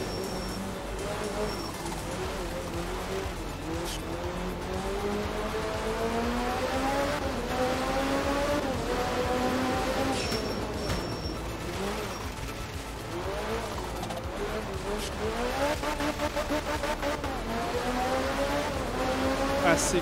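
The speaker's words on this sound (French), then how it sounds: "La voiture glisse bien." Rally car sliding on gravel in the video game Art of Rally, its engine droning steadily and swelling and dipping in pitch through a long slide, with tire and gravel noise underneath.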